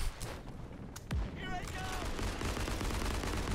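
Model 1917 revolver fire in the World War II shooter Day of Infamy, a couple of sharp close shots early on, then sustained loud battlefield gunfire and rumble, with speech mixed underneath.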